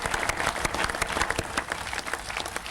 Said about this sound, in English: I'd like to let you put your hands together and give them a round of applause for that.